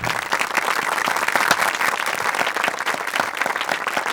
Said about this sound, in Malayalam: കൈയടിച്ചേ, എല്ലാവരും കൈയടിക്ക്